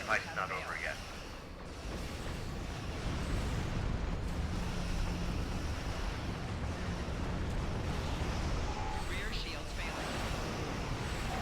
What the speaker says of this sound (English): I just hit myself with my own explosion